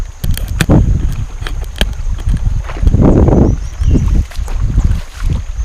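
A bamboo raft rides along a river at Sitio Baldeo, Brgy. San Pedro, Batangas City, with close splashing, bumping water and gusty wind noise, plus scattered knocks, with no voices.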